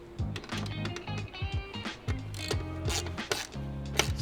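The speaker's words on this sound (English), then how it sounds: "Start tightening all the bolts." A ratchet turns inlet-pipe bolts on a C8 Audi RS6 in a series of quick clicking strokes, close and fairly steady, pausing briefly between bursts of rapid pawl clicks alongside faint mechanical handling noise.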